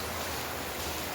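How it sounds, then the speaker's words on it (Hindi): Steady, dense rain pours down outdoors, a continuous even hiss with no breaks, close and enveloping. "ऐसे बारिश हो रही है।"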